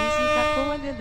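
A Volvo FH16 truck horn sounds in a driving video game, one loud sustained blast lasting the full moment with a slight shift in pitch partway through.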